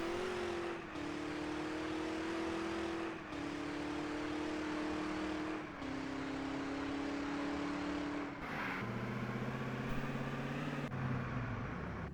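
Mercedes AMG One in a video game accelerating toward top speed, a continuous loud engine whine climbing in pitch through several gear shifts, with no talking over it.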